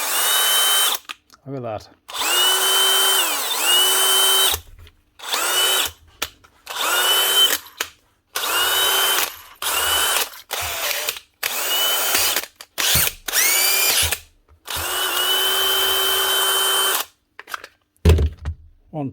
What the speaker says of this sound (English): One DeWalt DCD 999 brushless cordless drill with a freed up trigger.